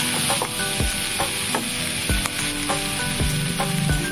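Rice for egg fried rice is stirred in a hot pan with a metal spoon, giving repeated scraping knocks against the sizzle, loud and close with no talking.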